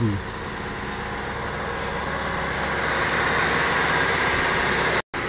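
A 2000 Hyundai Trajet engine idles with a steady, even drone close at hand, briefly cutting out near the end.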